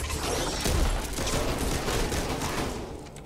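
Uzi fire in the zombie shooter Back 4 Blood rattles in dense, rapid bursts, loud and close, running almost unbroken with mechanical clatter and impacts beneath it.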